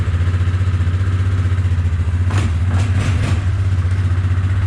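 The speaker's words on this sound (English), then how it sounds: "Let this thing warm up for a bit. Oh, she still wants choke." A pickup truck's engine idles on choke in the snow after a cold night, a steady low rumble throughout with a few brief clattering bursts near the middle.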